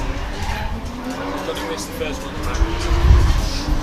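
A BMW E36 Touring drift car with a 1JZ engine skids on a wet track during British Drift Championship qualifying at Buxton. Engine roar and tyre noise swell louder toward the end, heard under continuous commentary.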